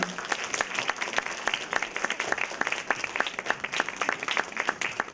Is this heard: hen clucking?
no